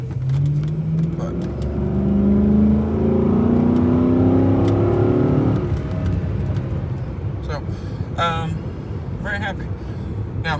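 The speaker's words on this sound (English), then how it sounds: "Now, you're hearing the power steering whine a little bit" A Chrysler 300C with the 5.7 HEMI, low on power steering fluid, gives a faint rising whine from its power steering pump under steady engine and road noise while driving. The whine fades after about five seconds, and brief voices come later.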